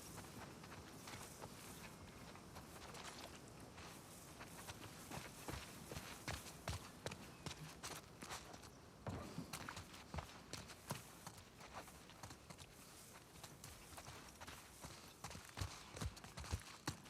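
Horse hooves clip-clopping in The Last of Us Part 2, a steady run of faint, quick thuds with scattered louder footfalls continuing throughout.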